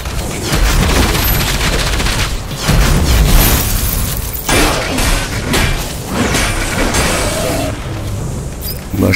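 Machine gun fire in the video game Enslaved: Odyssey to the West, heard as a loud, sustained barrage of rapid blasts and booming impacts with a few brief lulls and no talking.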